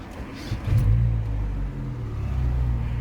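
A car engine cranks and catches in a driving-school car with the handbrake on, then settles into a loud, steady low rumble at idle that carries on alone.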